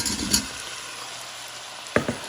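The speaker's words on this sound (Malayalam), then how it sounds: "സവോള ഒരുവിധം ഒന്ന് മുരിഞ്ഞ് വന്നിട്ടുണ്ട്." Sliced onions with a little salt sauté in a pan for a bilimbi recipe, giving a steady soft sizzle broken by two brief stirring scrapes, one near the start and one near the end.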